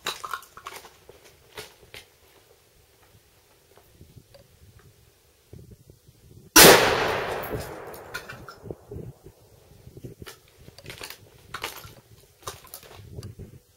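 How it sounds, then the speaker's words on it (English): A single sharp, loud rifle report from a Ruger Mini 14 firing Brass Max 55 grain ammunition cracks out at a range and decays into a ringing tail over faint background handling noise. "I'm shooting these here new Brass Max ammo"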